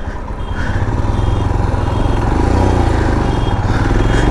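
Royal Enfield Himalayan BS6 motorcycle on a test ride, a steady loud close-up single-cylinder thump with a throbbing low rumble and wind noise building slightly as it goes.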